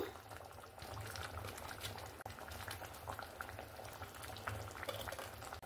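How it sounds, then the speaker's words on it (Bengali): Vegetarian curry of drumstick stalks with lentil fritters boiling hard after water is added, a continuous bubbling and gurgling close up that stays steady throughout with no voices. "এখানে আমার জলটা দেওয়ার পরে দেখুন তরকারিতে একটা ফুট চলে এসছে।"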